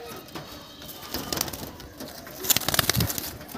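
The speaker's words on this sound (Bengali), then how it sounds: "এত ছটপটে পায়রাগুলো খাঁচার মধ্যে একা দাঁড়াচ্ছে না, দেখতেই পাচ্ছ, খালি ছটপট ছটপট করছে।" Malwai pigeons flutter restlessly inside a loft cage, with soft coos and brief bursts of wing flapping that grow busier toward the end, heard close with no talking.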